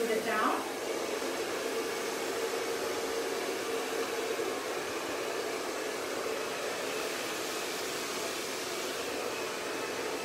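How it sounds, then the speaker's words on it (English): A hair dryer blows with a steady, loud whooshing roar while drying hair during a K-Respect smoothing treatment, running continuously at close range. "you're going to want to go through and make sure that you're drying the hair"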